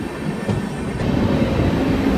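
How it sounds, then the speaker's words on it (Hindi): The Gomti Express, hauled by WAP5 electric locomotives at both ends, pulls out of Sikohabad Junction with a loud, steady rail rumble that builds slightly. The wheels roll continuously and no one speaks. "ये अपनी ट्रेन निकल रही है सिकोहाबाद जंक्शन से"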